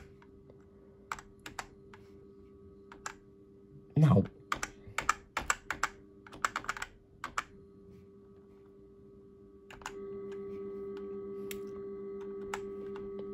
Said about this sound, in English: I think I have to keep clicking. I think I have to keep myself on the button.